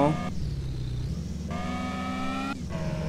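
Car in Car For Sale Simulator driving with a steady engine drone that shifts pitch as it accelerates, under a voice.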